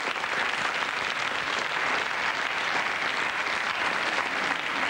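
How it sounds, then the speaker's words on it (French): A studio audience on a French television show applauds as a guest departs, an even, sustained burst of clapping with no voices over it. "On vous applaudit"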